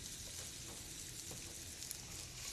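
Large peeled, deveined shrimp pieces fry in hot oil in a nonstick skillet, giving a steady, even sizzle with light crackling pops, close and continuous with no talk.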